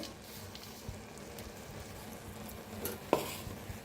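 Cooked spring onion greens stirred with crushed peanut powder in a pan, a low soft sizzle with light scraping strokes and a sharper metallic knock near the end, close and quiet.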